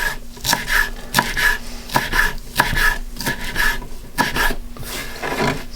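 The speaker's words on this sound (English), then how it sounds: "don't tempt fate by chopping too quickly on camera, because that's invariably when you cut yourself" A knife chops fresh herbs rapidly on a cutting board, a steady run of close, crisp strikes with slight uneven rhythm.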